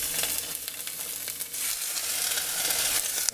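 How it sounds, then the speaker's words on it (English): Steady crackling sizzle of a swordfish steak searing in a hot oiled pan, continuous and close, with small pops and no voices. "you can hear that sizzle"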